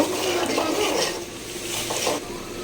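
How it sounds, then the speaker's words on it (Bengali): Chicken curry masala being stirred in a pot with green chillies, chopped tomato and ground nut paste, giving a steady scraping, clinking stir at close range with a faint background sizzle. "এখন ভালোভাবে নাড়াচাড়া দিয়ে মিক্স করে নেব"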